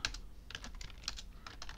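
Quick bursts of computer-keyboard typing entering a database login command, several crisp close keystrokes in short clusters with brief pauses between, no voice.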